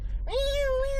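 A human voice imitates a female cat yowling in heat, giving one drawn-out, wavering cry that rises sharply and then holds steady, close and clear.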